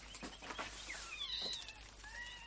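A cat meows in a garden, faint and distant, with a few rising and falling mewing calls over a quiet outdoor background.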